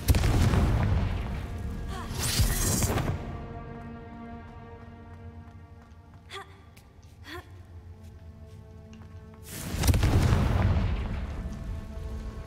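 Confringo spell explosions in Hogwarts Legacy, two heavy booming blasts at the start and end with a ringing tonal tail and a few brief sharp hits in the quieter middle.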